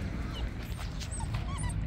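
Dogs whimper and yip faintly in a noisy outdoor spot in Senegal, brief high cries scattered over a constant broadband hiss.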